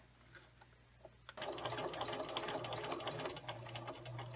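A sewing machine runs a straight stitch on a Valentine treat bag, starting after a quiet pause with a fast, steady mechanical whir close by.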